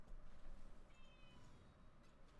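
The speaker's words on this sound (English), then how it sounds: "Hey, cat, what?" A pet cat meows indoors near feeding time, a faint short call over quiet room noise, heard alone without talk.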